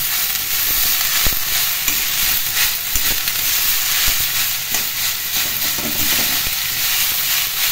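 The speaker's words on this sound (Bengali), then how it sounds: "ভাজা হয়ে গেছে, এখন এর মধ্যে মূলোর শাক দিয়ে দিলাম।" Chopped radish greens fry and get stirred in a hot pan, a steady close sizzle with scraping stir strokes throughout and no talk.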